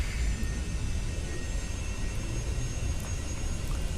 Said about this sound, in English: Last plane to depart.